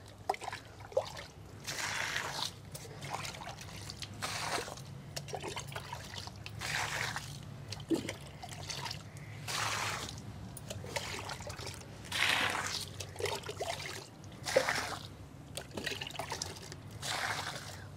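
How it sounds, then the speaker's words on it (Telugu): Water from a bucket poured onto potted lemon plants and other garden plants, a steady splashing trickle lasting throughout with repeated surges, fairly close and moderately loud with a low hum beneath. "ఈ బకెట్ నీళ్ళు పోసేస్తా ఇప్పుడు."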